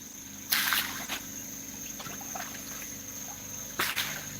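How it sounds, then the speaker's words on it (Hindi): Molasses poured into a biofloc fish tank gives a few soft liquid splashes and trickles, two louder bursts standing out against a steady low hum with no talking. "ये मोलेसिस ऐड कर रहे हैं हम इस टैंक में।"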